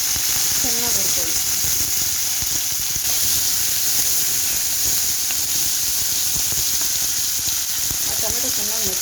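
Tomatoes and curry leaves frying in a spoon of oil in a pan give a loud, continuous hissing sizzle, heard up close throughout.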